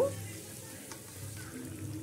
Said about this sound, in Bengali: তো এইভাবে সমস্ত চপগুলোকে আমি ভেজে নেব।